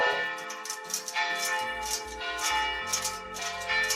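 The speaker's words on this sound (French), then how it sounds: "Évidemment, il y a les cloches." Church bells ring in a steady, overlapping peal, fairly loud and full, with a repeated struck rhythm and long ringing tones, and no voices.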